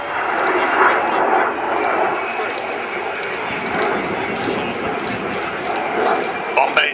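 Avro Vulcan bomber flying past at an airshow, a continuous broad roaring jet rumble, loud and sustained, with a commentator talking over it.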